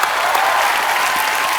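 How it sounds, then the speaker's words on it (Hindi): Loud, dense applause from a crowd, steady and continuous throughout. "एक बार हेलन जी और आशा जी के लिए जोरदार तालियां हो जाएं।"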